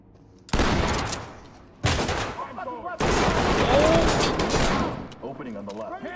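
Shotgun blasts fire during a tactical room-clearing breach in the video game Ready or Not, three loud, sharp broadband bursts with short gaps, each trailing into echoing game noise, with voices and command chatter underneath.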